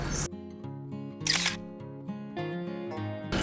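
A camera shutter clicks sharply three times, spaced over a few seconds, with music playing softly underneath.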